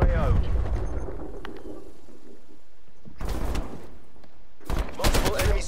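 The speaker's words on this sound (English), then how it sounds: "Multiple hostile sentry turrets working your AO." Hostile sentry turrets open fire in a video game, with two loud bursts of rapid gunfire and blasts separated by quieter stretches, and a voice-like sound at the start.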